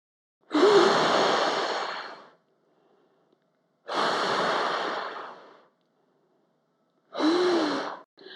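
Deep exercise breathing, three long breaths close by with short pauses between, each a broad airy rush, the last one cut shorter.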